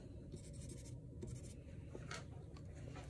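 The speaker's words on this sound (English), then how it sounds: "I can take the back of my brush, so flip it over, and draw into it." The back of a paintbrush scratches into wet acrylic paint on canvas, giving faint, close, short scraping strokes in an irregular rhythm.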